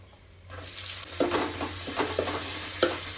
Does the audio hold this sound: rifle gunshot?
no